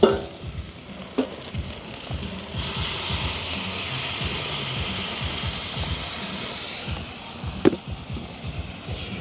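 A brinjal and anchovy curry with coconut milk is stirred in a pot, a broad steady sizzle running throughout with repeated scraping strokes of the spoon, a couple of sharper clinks near the start and end, close and fairly loud with no talk.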